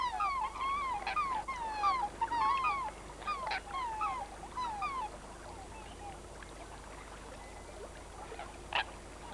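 Black swans and coots on a New Zealand lake: a run of quick, repeated honking and squeaky calls in the first half, thinning out to scattered calls later, over a quiet watery background.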